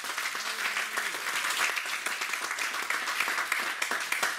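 A church congregation applauds in a dense, steady burst of many hands clapping at once, filling a reverberant room for several seconds without a break.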